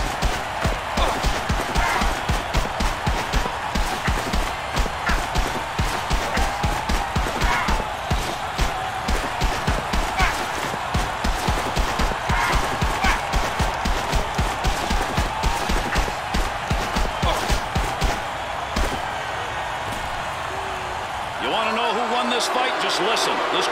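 A hockey crowd in NHL 08 for Xbox 360, Pittsburgh Penguins against Carolina Hurricanes, stands and shouts in a loud, rhythmic pulsing roar with stomping or chanting beats, and it thins toward the end.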